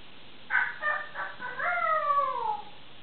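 An African grey parrot mimics a rooster, producing one clear cock-a-doodle-doo with choppy opening notes and a long drawn-out final call, alone and close.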